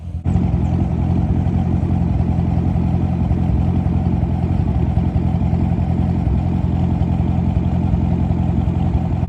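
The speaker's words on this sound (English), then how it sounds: "it also does have Borla Attack axle back mufflers on it, and it sounds pretty good" A car fitted with Borla Attack axle-back mufflers runs with a steady, deep exhaust drone that stays loud and even throughout, with no voices.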